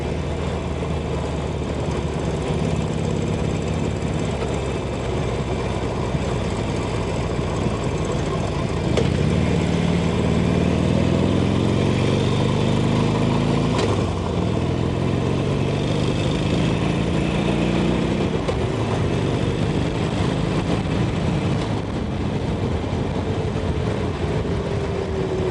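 Harley-Davidson Iron 883 motorcycle cruising on an expressway, with a continuous loud engine drone and rushing wind for the whole stretch and a brief rise in pitch midway as it accelerates.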